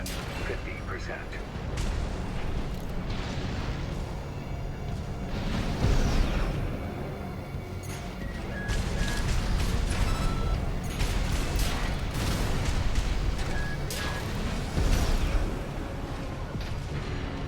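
Explosions and gunfire from a mech-combat video game as Gatling cannon targets are destroyed, a dense, continuous barrage of booms and bursts with several louder blasts, accompanied by game voice-over.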